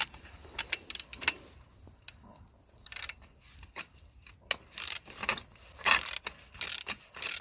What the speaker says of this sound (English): so we're gonna use the ratchet to undo the clamps